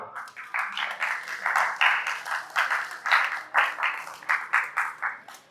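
An audience at Yoga Day competitions claps and cheers in rhythmic waves, the applause fairly close and steady for several seconds, with no speech over it.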